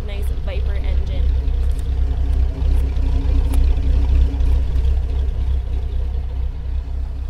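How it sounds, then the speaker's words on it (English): A 2005 Dodge Ram SRT-10's Viper V10 engine idles through dual exhaust, a deep, steady rumble low and continuous, with faint background voices around it. "you can have a listen to that nice Viper engine"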